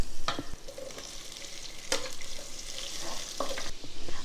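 Mutton pieces sizzle in hot oil with onion and ginger-garlic paste in a pan, a loud continuous frying hiss broken by several sharp scrapes and clacks of a stirring spoon.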